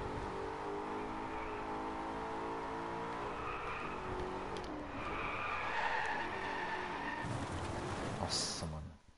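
In the Driveclub racing game, a car drifts with a long, continuous tire skid over a droning engine, loud and sustained throughout, ending with a brief high squeal before cutting off.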